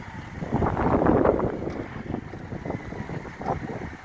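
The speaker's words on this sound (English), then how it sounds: "Kind of windy today," Gusty wind in Golden Valley, Arizona buffets the microphone with a low roar, swelling and easing over several seconds.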